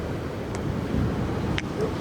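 Steady wind gusting across a sunrise beach at Samara, Costa Rica, a broad continuous rush with faint surf beneath, fairly loud and unbroken, no talking.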